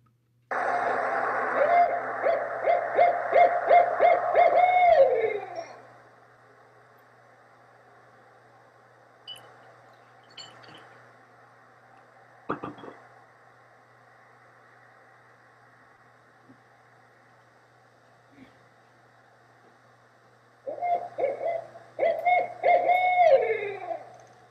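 A recorded barred owl hoots in a rhythmic series of calls, played back twice with a long near-silent gap of faint clicks between, ending in a descending call each time.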